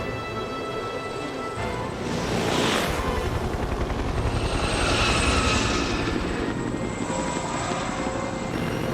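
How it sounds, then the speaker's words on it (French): An animated helicopter's engine and rotors drone steadily and loudly, swelling as the aircraft passes during a flying-school cartoon episode. "un des hélicos des Barracudas se dirige vers les Rangers"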